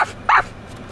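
A puppy gives two short, sharp yips close by, the second louder and slightly longer, with quiet room tone between them.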